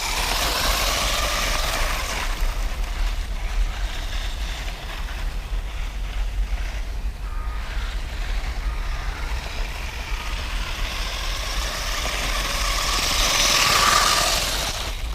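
A Wltoys Storm 1/12 off-road RC car drives outdoors, its electric motor producing a continuous whining buzz that rises toward full throttle near the end, with wind noise underneath and no speech.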